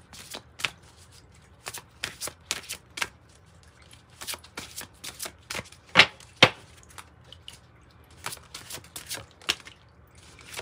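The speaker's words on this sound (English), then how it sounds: "Let's pull something from the Guardian Angel reading cards." Guardian Angel oracle reading cards are shuffled by hand, with repeated crisp riffling and slapping bursts at irregular intervals and two sharper snaps midway, close and without talk.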